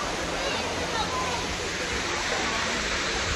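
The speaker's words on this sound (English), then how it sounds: "just walking over here to this waterfall." Anderson Falls waterfall roaring steadily nearby, a dense, unbroken rush of falling water with no pauses.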